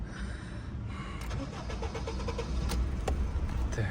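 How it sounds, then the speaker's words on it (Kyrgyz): A Honda CR-V with about 219,000 km on it cranks over with a rapid stuttering whir from the starter, then catches into a low steady engine idle close by. "Азыр машинени оталдырайлы."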